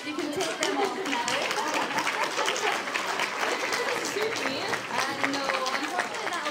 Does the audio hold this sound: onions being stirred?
no